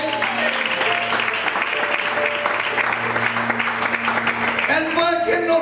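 Congregation in a Villaverde church breaks into sustained applause, a thick continuous roar of many hands clapping, with music and voices mixed in beneath the clapping.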